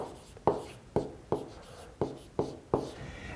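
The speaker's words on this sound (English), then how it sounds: "So I'm going to write down that point." A pen marks a point on paper by hand, giving about seven sharp, close taps and short strokes in an uneven rhythm with no talk over them.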